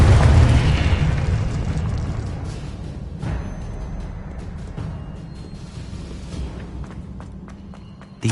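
Confringo blasting spells in Hogwarts Legacy go off with a heavy boom at the start, followed by a long rumbling decay and scattered smaller crackles and pops, with no voices.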